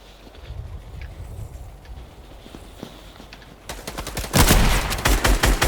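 Fortnite gunfire in rapid bursts grows loud and dense over the last two seconds, after a quieter stretch of faint game clicks and steps.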